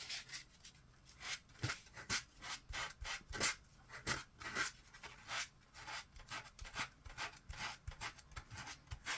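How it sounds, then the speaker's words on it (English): Close, steady rasping strokes of a sanding sponge rubbing a paper edge, repeated in a quick back-and-forth rhythm. "I'm using my sanding sponge."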